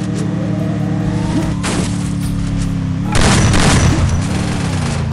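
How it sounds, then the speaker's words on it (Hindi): A vehicle engine drones steadily throughout a mobile battle-royale game, loud and close, with a burst of gunfire and impacts breaking in partway through. "गाड़ी की आवाज आ रही है यहाँ पे"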